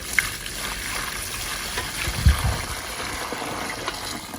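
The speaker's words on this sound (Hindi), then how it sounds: "तो थोड़ा सा पानी डाल दें इसमें" Water is poured into a plant pot as a soft, steady trickle with a brief louder splash midway, faint against background hiss.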